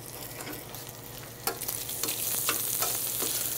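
Meat sizzles and renders in a frying pan while making pasta carbonara, a steady close frying hiss with occasional stirring scrapes and crackles, no talking.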